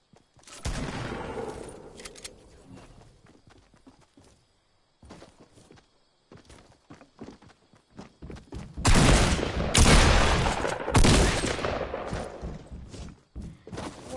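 Shotgun blasts in a PS4 video game fire in loud, sharp bursts, clustered around rapid volleys, with softer game thuds and footstep-like clatter in between; no talking is heard.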